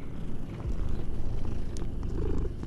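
A cat purrs in the dark fantasy video game Mortal Shell, a steady close rumbling purr running continuously for nearly three seconds over low game ambience.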